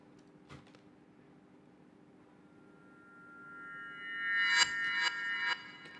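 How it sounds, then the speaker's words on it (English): A synthetic riser effect from a sound design piece swells steadily over several seconds, climbing in brightness and loudness to a peak, with a few sharp accents near the top before cutting off. "This is a riser."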